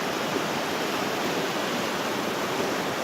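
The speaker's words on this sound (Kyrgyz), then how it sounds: "Так, азыр эшек суудан өтүп атат," Steady rushing water from a stream being waded across by a donkey, a dense, even wash of flowing water filling the whole stretch with no voices.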